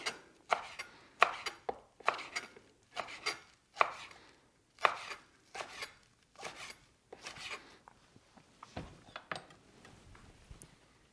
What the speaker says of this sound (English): take your knife and just cut that into really thin strips